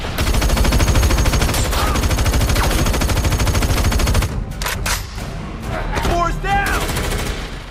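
Dense, continuous bursts of automatic gunfire from an action film heist shootout rattle loudly, then break into scattered shots and impacts, with a voice narrating over the shooting.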